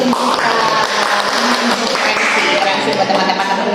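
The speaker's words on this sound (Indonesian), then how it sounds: "tepuk tangan dulu lah buat teman-teman kita" Applause for friends learning a regional language at an Indonesian podcast, a dense wash of hand clapping sustained and fairly loud across the whole stretch, with background chatter beneath.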